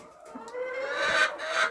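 Chickens in a coop bedded with dry chopped grass squabble and fight, giving a close run of agitated, rising clucks and squawks that swell toward the end with no talk over them.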